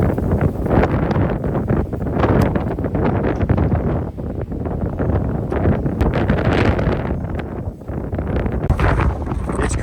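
Loud, continuous wind buffeting the microphone, roaring and gusting throughout with no voices.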